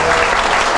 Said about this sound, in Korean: 인사할 때는 박수로 환영해 주시면 좋겠습니다